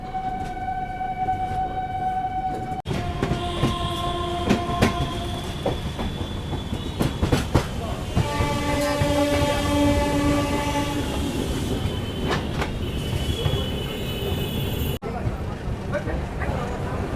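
Mithila Express running on the rails out of Raxaul, a steady rumble and rattle of wheels with squeals and high tonal whines drifting in and out, close and continuous from start to end, with talk over it.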